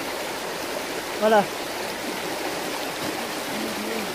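A river in Switzerland flowing in a steady, moderate rush close by, with a short spoken word partway through.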